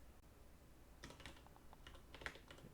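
Keystrokes on a computer keyboard as a Linux shutdown command is typed, a quiet run of light, irregular clicks with a few sharper taps near the end, no voices.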